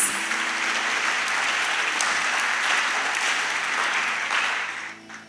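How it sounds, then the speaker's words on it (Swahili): A church congregation clapping hands for Jesus at a worship service, sustained dense applause from a large crowd filling the room, fading out near the end. "Clap your hands for Jesus."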